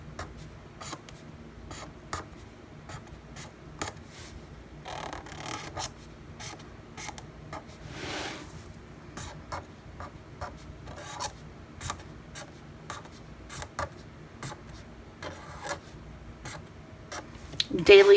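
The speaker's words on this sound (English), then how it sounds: "I'm just going to go in here and I'm going to write daily" A Pentel Sign Pen with a worn, bullet-shaped tip writes in a spiral notebook, giving soft, close scratchy strokes in short bursts, with quiet movement noises between them.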